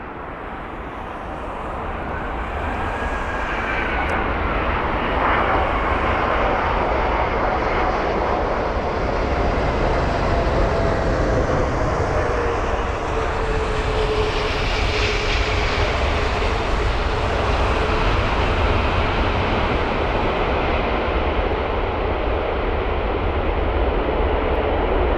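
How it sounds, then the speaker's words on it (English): A Singapore Airlines Airbus A380, an 11-year-old jet arriving at London Heathrow from Singapore, roars in on landing, a loud sustained engine rumble with a sweeping whine that swells and holds steady throughout. "So it's going to be the Singapore Airlines A380 with the reg 9 Victor Sierra Kilo Quebec, or 9VSKQ, and this is the arrival from Singapore"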